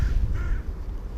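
Crows caw while being fed in White Table Woods, a couple of harsh calls at middle distance over rustling background noise, with no talk.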